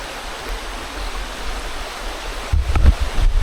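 Steady rushing flow of a clear river, a broad continuous wash of water close by, with a few louder splashy bursts near the end.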